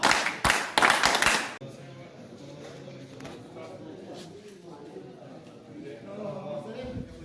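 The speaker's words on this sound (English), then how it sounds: "Scouts clap, let's go." Scouts at a cloudy mountain camp in Kalam clapping together, a quick burst of loud, sharp claps in unison at the start that gives way to murmuring voices and outdoor chatter.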